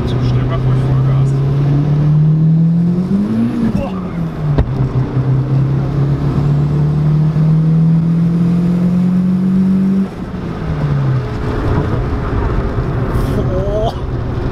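Turbocharged VW Lupo 1.8T with a GT30 turbo at full throttle, the engine tone climbing, dipping and holding a loud, close roar before easing off near the ten-second mark, with people talking over it.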